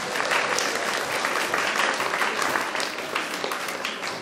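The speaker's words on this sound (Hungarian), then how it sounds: "ő is megérdemel egy nagy tapsot." A crowd of schoolchildren and adults claps warmly for a costume winner at a primary school carnival, a dense, even round of applause lasting several seconds.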